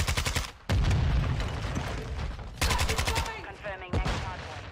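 Automatic rifle fire in Modern Warfare 2 rattles in loud rapid bursts, several close volleys broken by short pauses, with game battle noise beneath.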